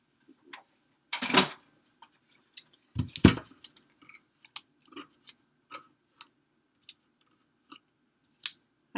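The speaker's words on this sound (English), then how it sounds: "So let's cut our spiders and our tag." Scissors snip through paper while cutting out Halloween spider shapes and a tag for a matchbook treat holder, giving a loose series of sharp, close snips and clicks with brief louder bursts and quiet gaps between.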